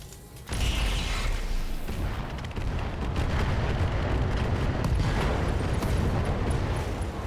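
In RogueTech, a bomb strikes a Highlander mech with a sudden loud blast that becomes a sustained heavy rumbling roar, dense and booming, with mechanical creaks beneath.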